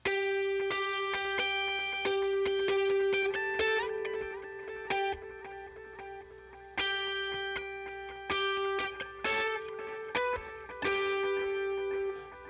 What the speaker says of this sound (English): with delay on, the solo part sounds like this